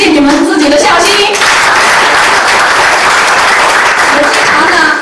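Audience applause at a Mother's Day session of a speaker training class, dense loud clapping filling the room for about five seconds, with a voice speaking over the start.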